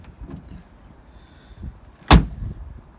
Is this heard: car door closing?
yes